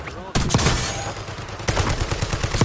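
Gunfire crackles in Call of Duty Warzone, a sharp loud shot followed by a rapid string of close reports, with a second burst of repeated shots later.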